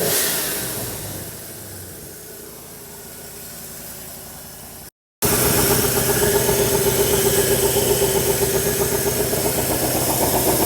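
Old truck engine idling, a steady close rumble with a hissy, noisy texture, cut briefly by a gap and then returning louder and even.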